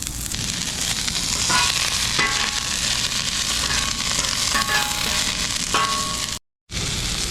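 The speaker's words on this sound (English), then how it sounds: "put our onions on there. Let them caramelize and cook up." Onions frying and caramelizing on a hot griddle for onion smashed burgers, a steady, close, crackling sizzle with occasional spatula scrapes and a brief dropout near the end.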